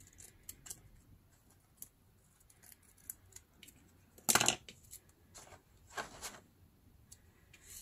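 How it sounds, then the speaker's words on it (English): A single quick snip of scissors cutting through newspaper sheet, crisp and close, standing out briefly over a quiet room with faint rustling paper and small handling ticks around it. "I'm gonna take my scissors, cut it on half."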